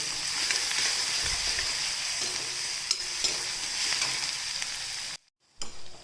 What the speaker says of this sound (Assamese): এইখিনি ধুনীয়াকৈ ভাজি ল'ম 1 মিনিটৰলৈকে